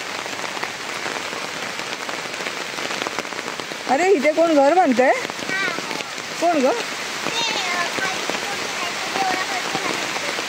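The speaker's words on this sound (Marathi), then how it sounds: "अरे पाऊस जोरात आला." Heavy rain pours steadily near a village river, a dense close hiss of drops on surfaces running throughout while people talk and call out over it.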